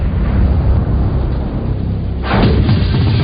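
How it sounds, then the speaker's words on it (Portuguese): An explosion welding blast joins metal plates, a loud, dense roar that swells sharply partway through and stays heavy to the end. "E isso é chamado de soldagem por explosão."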